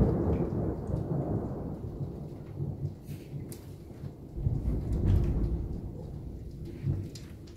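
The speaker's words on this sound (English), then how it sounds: "I like thunder, and at the same time, I don't." Thunder rolls through a snowstorm in Lynndyl, Utah: a long, low, rumbling roar that holds steady and swells near the middle and again toward the end, with no voices.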